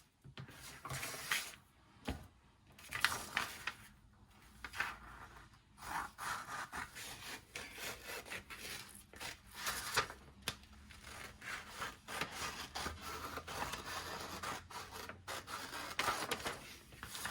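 Paper cut for a meander book, heard as a long run of soft, close rustling snips and slides of the blades through the sheet, with brief pauses between cuts and no talk.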